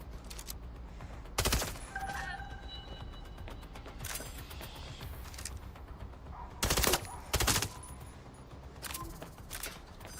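Gunfire in the PC video game MindsEye: several loud, sharp bursts of automatic shots spaced a few seconds apart, standing out over a quieter bed of game ambience.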